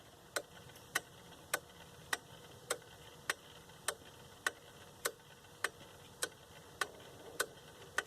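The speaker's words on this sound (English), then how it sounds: "I'm going to stand this clock vertical so you can see how the pendulum makes its ticking sound." Leick quartz pendulum clock ticking steadily in a quiet room, sharp regular ticks about every 0.6 seconds, close and fairly soft, with no voices.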